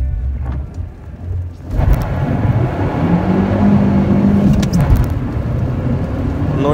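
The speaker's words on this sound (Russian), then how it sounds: "я не успеваю за отсечкой" A 2019 Lada Granta Drive Active engine roars close inside the car, revving hard toward the limiter and rising in pitch as it accelerates, loud and continuous, with no talk.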